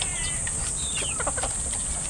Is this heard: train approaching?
no